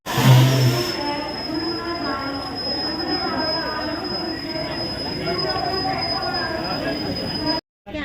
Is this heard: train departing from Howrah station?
yes